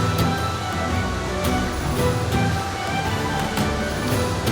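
Rushing water released from Barvi Dam near Badlapur, pouring fast through a large pipe and across a road, a loud, steady broadband roar that stays constant throughout without pause.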